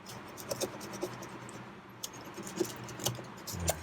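A knife or cutter scratches and slices through adhesive tape sealing a Logitech G102 gaming mouse box, giving close, intermittent scraping and small plasticky clicks at an uneven pace.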